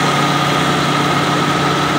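A car engine idling with the air conditioning on and the automatic radiator fan running, a loud, steady, unbroken whir and hum with no voices.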